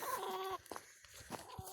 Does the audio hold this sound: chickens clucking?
yes